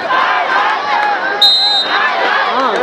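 Supporters of Gandaki Province hoot and shout at a women's national games volleyball semifinal against Police, a dense, loud crowd roar with overlapping voices and a brief sharp whistle-like tone midway.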